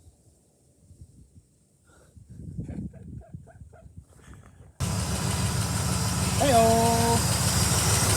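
A hot rod engine starts up and idles loudly nearby, rumbling steadily after a quiet stretch, with a brief revving rise partway through and a voice calling out.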